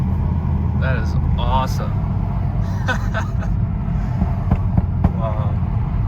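The engine of a BMW 435i fitted with a new air intake hums in a low, steady rumble nearby while someone speaks over it.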